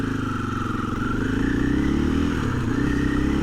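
A 2024 KTM 500 EXC-F single-cylinder enduro motorcycle cruising on a road in a tall gear at minimal throttle, its steady low thumping engine drone continuous and close, with a faint rise in pitch and no voices.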